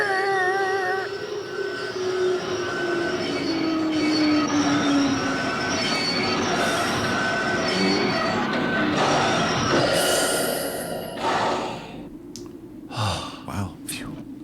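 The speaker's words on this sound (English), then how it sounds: "the train's just reversing" Train squealing on its wheels as it reverses on a bridge, loud screeching tones and rumbling rail noise throughout, with short gasps and clatter near the end.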